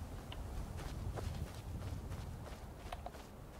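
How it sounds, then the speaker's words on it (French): Footsteps crunch through lush vegetation in the video game Skyrim, a steady walking rhythm of soft rustling steps over a constant ambient bed of outdoor game sound. "Écoutez les bruits de pas dans cette végétation luxuriante."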